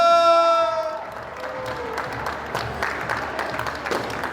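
Guests applauding loudly at an Armenian christening party, as a sustained musical tone fades away and a burst of dense crowd clapping takes over and continues.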